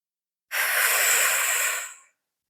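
Slow, deep breath during a yoga pose in a core and splits flow, a single steady airy exhale of about a second and a half, close and clear with no talking.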